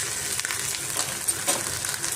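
Flattened rice (poha) tipped into a hot pan and stirred, giving a soft continuous sizzle with scraping and rustling of the flakes, close and steady with a few louder stirring strokes.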